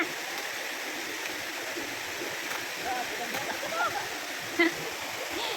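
Continuous rushing of a flowing river fills the scene, with faint voices audible beneath the steady wash.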